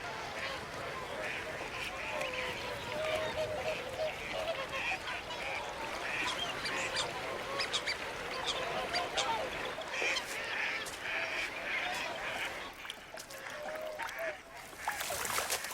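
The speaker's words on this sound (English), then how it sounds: "They join countless other birds, overwintering on the pastures of the Welney Wetlands Reserve" Swans, geese and other waterbirds overwintering on the flooded pastures of the Welney Wetlands Reserve in the Fens honk and call in a dense, continuous chorus, with a voice speaking over the flock.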